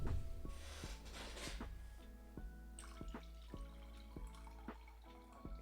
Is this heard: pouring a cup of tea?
yes